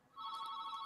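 A phone line rings with a brief steady electronic tone, faint and short, holding a single continuous ring.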